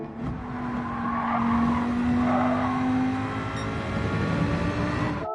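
A GR4 race car in Gran Turismo powering out of a corner at Deep Forest, loud close engine drone rising steadily with a faint tire squeal.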